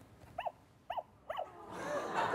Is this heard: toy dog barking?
yes